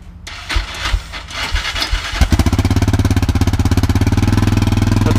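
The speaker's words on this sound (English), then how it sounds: "That's how you start a Yamaha." A Yamaha dirt bike, a CR80 big bore, is kicked over a few times with sputters, then catches and settles into a loud, rapid, steady two-stroke idle, close by with no talking.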